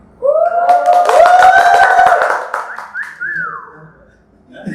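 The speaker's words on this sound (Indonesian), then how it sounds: "Udah ada tepuk tangan dari" An audience at an Indonesian talk show whistles loudly in rising, sliding tones over scattered clapping, the cheering swelling and then fading away.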